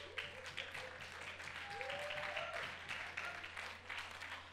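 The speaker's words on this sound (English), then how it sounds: "that was a bit of a pity applause there" A church congregation gives scattered, half-hearted applause after a show of hands during a service. It is faint and distant, with a voice speaking over it.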